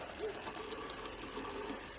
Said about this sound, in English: and spray a little water